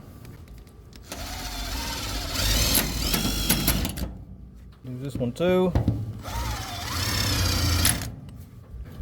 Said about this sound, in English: Let's just start drilling it.